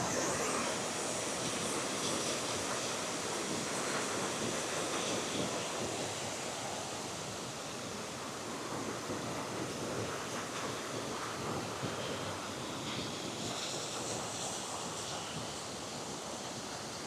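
Step Falls, a waterfall in the Scottish Highlands, gives a steady broadband rush of falling water, continuous and even throughout, with some wind buffeting and no voices.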